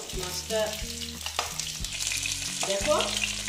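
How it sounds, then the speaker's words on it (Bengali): Chital (clown knifefish) pieces, with a little turmeric added, drop into hot oil and fry in a loud, dense sizzle with bursts of spattering, under a low steady hum and no speech. "আমি মাছগুলো দিয়ে দিচ্ছি"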